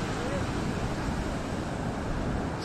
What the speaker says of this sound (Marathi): समुद्राच्या मोठ्या मोठ्या राटा किनाऱ्यावरती येत आहेत।